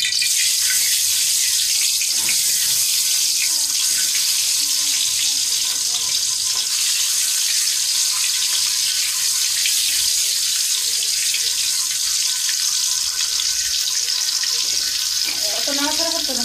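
Water bubbling and hissing in a cooking pan on a gas stove, a steady faint sizzle and simmer that holds throughout with a few soft clinks.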